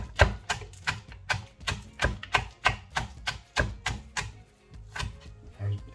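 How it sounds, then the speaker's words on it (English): A knife slices spring onions, including the leafy tops, on a cutting board. Steady, evenly spaced chops land close and crisp, about two per second, with no talking. "I slice again."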